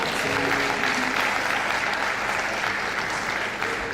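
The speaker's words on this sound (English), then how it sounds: "A loud round of applause one more time." A dense, loud wash of applause rises from a university audience in Abuja for the Vice Chancellor, continuous crowd clapping with no gaps throughout.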